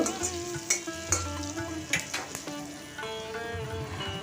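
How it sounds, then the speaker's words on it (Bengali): Onions frying in oil with a little turmeric, a steady close sizzle broken by sharp clinks and scrapes of a spoon against the pan, with no talking. "পেঁয়াজগুলো লাল হয়ে যাওয়া অবধি আমি একটু ভেজে নেব"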